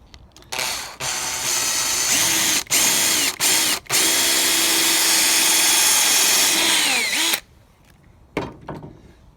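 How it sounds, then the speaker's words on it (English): Power drill with a collared countersink bit boring recessed screw holes into a ground-level deck board, running loud and steady in long bursts with brief stops, then winding down and falling quiet near the end. "go down until the bit stops, until that collar stops spinning, which means that we've bottomed out the drill for that."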